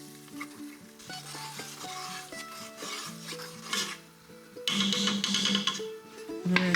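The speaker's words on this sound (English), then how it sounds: "Stir that in." Stock and meat are stirred in a pot over heat, with a spoon scraping and clinking against the metal under a steady sizzle that grows louder and busier toward the end; no one speaks.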